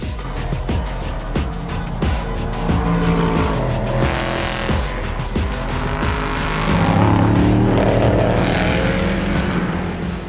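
Race cars at speed through the Porsche corner at Le Mans, with loud continuous engine roar, rapid gear-change pulses and rising, falling pitch as they pass, swelling louder toward the end.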